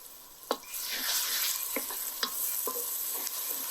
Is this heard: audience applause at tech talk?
no